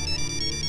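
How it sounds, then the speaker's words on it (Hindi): A phone ringtone plays loud and close, a steady electronic melody repeating with a regular pulsing rhythm. "किसका फोन है? पापा का फोन है।"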